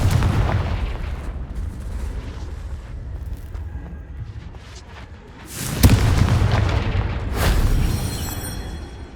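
Confringo spell blasts hitting rocks in Hogwarts Legacy, with deep rumbling booms: a sustained rolling blast early on, then two sharper, louder explosions later, each with a heavy low thud and debris-like crackle.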